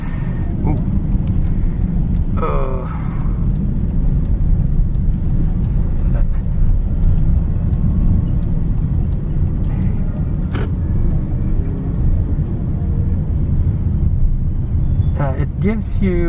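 Steady, loud interior road rumble of a 5th-generation Hyundai Elantra on the move, a constant low drone with tire and engine noise throughout and a few faint clicks and squeaks from inside the cabin.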